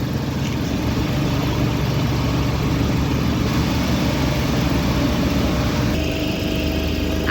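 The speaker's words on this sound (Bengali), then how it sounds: "এই যে নৌকা চলছে" A passenger motor boat on the Ganges at Varanasi runs with a loud, steady engine drone. The low rumble holds constant through the whole stretch, with a faint hiss of wind and water and no talk.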